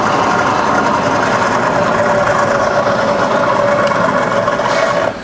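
A fully rebuilt Bridgeport milling machine runs with its spindle shifted between low, middle and top speeds, giving a steady, fairly loud mechanical hum and whir that holds evenly before cutting off at the end.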